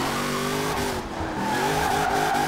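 An International Harvester truck in Forza Horizon 4, a Hot Wheels Legends pink chrome truck with stripes, drifts through a 360 with a loud, sustained engine drone and continuous tire squeal and skidding.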